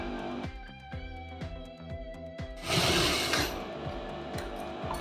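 A sewing machine stitches a blouse lining with a half-inch seam, its needle tapping in a steady rhythmic run of clicks, close and fairly quiet, with a louder burst of whirring partway through.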